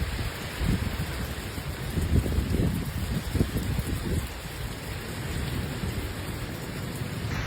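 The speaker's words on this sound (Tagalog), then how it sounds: "Tignan nyo ang ulan." Steady rain falls in a forest park and patters on surfaces, with low rumbles underneath and a continuous hiss throughout.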